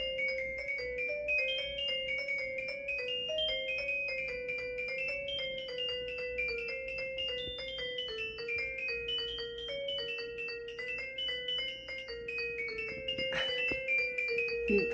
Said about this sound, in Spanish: Este es el sonido de la frecuencia de la sábila.